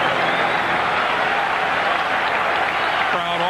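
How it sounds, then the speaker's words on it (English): A baseball stadium crowd at a 1995 MLB playoff game in Los Angeles cheers and applauds steadily, a dense, loud roar of clapping and voices sustained throughout. "Crowd offers encouragement."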